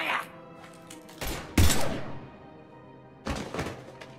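Gunfire in the video game Mass Effect 3, a few heavy thudding shots and blasts in separate bursts with a brief decaying tail, mixed with game voices.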